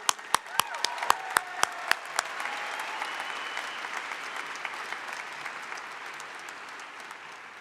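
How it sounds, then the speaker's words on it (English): Applause for a high school graduation orchestra opens with a few loud, sharp individual claps, then settles into a softer, more distant crowd clapping that slowly fades, with a voice briefly heard over it. "another round of applause for our orchestra"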